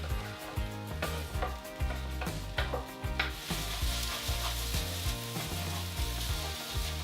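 Egg sizzles and fries in a hot pan with quinoa for a stir fry, a steady close crackle with rhythmic stirring and pan scraping throughout and no talking.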